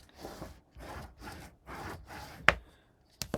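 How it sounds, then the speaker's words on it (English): Repeated rubbing strokes of a bone folder burnishing a paper fold on a handmade mini album flap, five even passes close up, then a sharp tap and a brief knock. "Just burnish the 1/2 inch right now."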